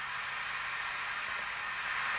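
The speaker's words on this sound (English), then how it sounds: "This kind of white noise, this has nothing on it, sounds like this." A steady, unprocessed white noise of the kind used for sweeps in music production hisses evenly, bright and airy, for a couple of seconds with no talk over it.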